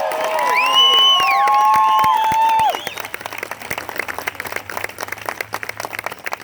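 A large crowd at an air force basic military training graduation cheers and whistles loudly, then sustained dense applause continues across the field.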